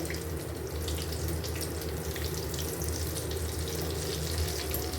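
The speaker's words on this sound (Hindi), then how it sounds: "यहाँ पर हमने ऑयल को पहले से गर्म कर लिया था और हमने 2 फ्राई भी कर लिए।" Chicken donuts fry in pre-heated oil, a steady close hiss and bubbling fizz that continues unbroken and evenly loud throughout, with no talking.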